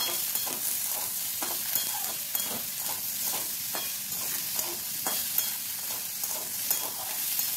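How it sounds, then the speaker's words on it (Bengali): Raw jackfruit pieces and potatoes fry over medium heat in a pan, a steady sizzle broken by repeated scrapes and clacks of stirring at close range, with no voices. "খুব ভালোভাবে এটাকে কিছুক্ষণ নাড়াচাড়া করে ভেজে নিতে হবে।"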